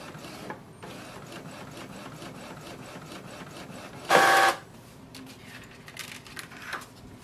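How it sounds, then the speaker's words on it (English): An inkjet printer prints a passport-size photo indoors, giving a quiet, steady mechanical whir with faint clicks and a loud, brief burst of carriage motion about midway, then returning to a low hum. "Now wait for the printer."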